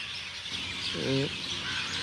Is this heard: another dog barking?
no